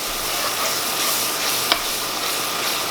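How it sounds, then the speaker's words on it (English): Flour is stirred into hot fat in a pan for biscuit gravy, giving a steady soft sizzle with scraping stir strokes and one brief sharp clink near the end. "Now we're going to stir that up in there."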